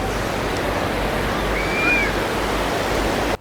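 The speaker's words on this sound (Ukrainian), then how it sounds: "тут почнуться хвилі, і буде таке закарпатське море, яке полюбляють всі діти" Water rushing and churning in an aquapark wave pool at Kosino thermal waters in Zakarpattia, a steady loud wash of surf-like noise that cuts off abruptly near the end.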